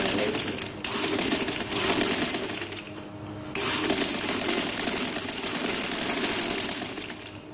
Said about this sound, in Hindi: आप ना एक सिलाई लगाएंगे किनारे पे, ठीक है, थोड़ा सा गैप करके।